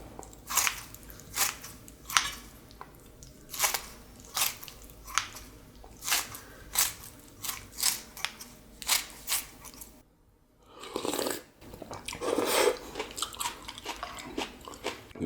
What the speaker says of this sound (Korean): 김치를 자르겠습니다